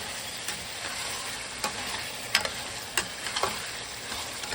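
Chopped tomatoes frying in a pan for a ridge gourd curry, a steady close sizzle with occasional clicks and stirring taps of a spoon against the pan.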